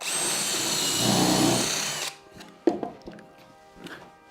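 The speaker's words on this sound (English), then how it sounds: "I'm just going to pre-drill" A power drill whines steadily while pre-drilling into wood for a workbench for about two seconds, then stops, followed by a few light clicks and handling knocks.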